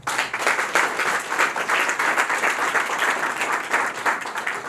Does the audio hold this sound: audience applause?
yes